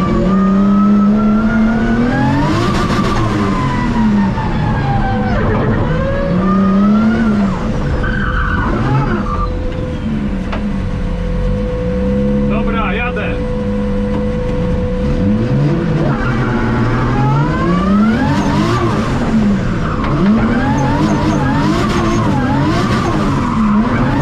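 Subaru drift car revving hard with long tire squeals and skids during a test run, loud and close, engine pitch rising and falling continuously throughout.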